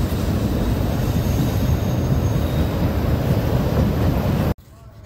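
A train passes by close and loud, a dense continuous rumble that cuts off abruptly near the end.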